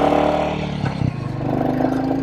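A Royal Enfield Bullet 350 motorcycle rides past, its single engine running with a steady low thump and a brief rev swell midway, loud and close throughout with no voices.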